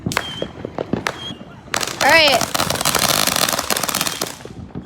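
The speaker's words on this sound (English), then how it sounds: "my friend over here is gonna pop a firework for me" A firework set off outdoors with friends: a whistling, rising screech followed by a loud burst of dense crackling that carries on for a few seconds, with a few earlier sharp pops and a voice speaking briefly.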